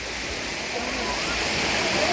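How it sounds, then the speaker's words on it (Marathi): The Vazra waterfall in Marathwada, swollen by the monsoon, sends up a continuous loud rushing roar of falling water, close and unbroken, with a voice speaking over it. "हा आहे सर धबधब्याच्या पुढील भाग आहे"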